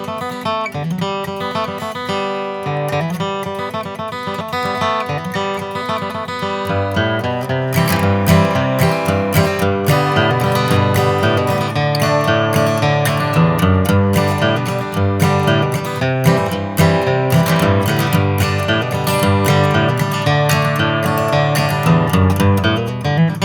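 A guitar is played alone, starting with picked notes and then building into steady, driving strumming that grows louder and denser.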